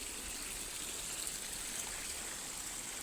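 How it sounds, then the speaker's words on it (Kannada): Water runs through a newly laid drip irrigation pipeline for plants, a faint, even trickling hiss that holds steady from start to finish. "ನೀರು ಬಿಡ್ತಾ ಇದ್ದಾರೆ ನಮ್ಮ ಮಿಸ್ತ್ರಿ"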